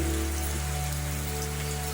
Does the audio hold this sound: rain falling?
yes